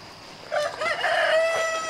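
Rooster crowing once up close, a drawn-out cock-a-doodle-doo that starts abruptly and trails off, from maturing farm birds, with no talk.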